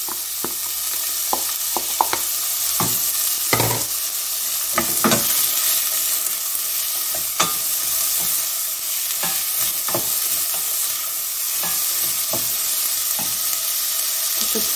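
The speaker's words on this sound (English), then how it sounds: "And I'll put the chopped onions in." Chopped onions sizzle and fry in oil in a pan for a spaghetti bolognese, a steady close hiss broken by sharp clicks and scrapes of a spoon stirring them, with no talk.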